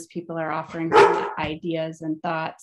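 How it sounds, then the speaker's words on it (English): A dog barks in a short series of sharp, close barks during an online meeting, mixed in with a person speaking. "Apologies for the barking."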